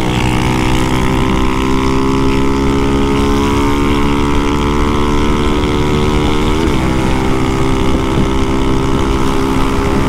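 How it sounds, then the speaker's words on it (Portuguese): A Honda Fan 150 motorcycle cruises along a highway, its engine droning loud and steady with a constant harmonic whine and heavy wind rush, the pitch dipping briefly partway through. "essa moto tá andando demais"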